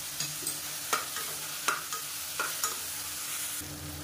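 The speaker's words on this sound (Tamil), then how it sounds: "இப்போ தக்காளி நல்லா வதங்கிடுச்சு." Chopped tomatoes and onions with a little turmeric sizzle in a pan, and a spoon scrapes and stirs them in regular strokes against a soft, steady frying hiss.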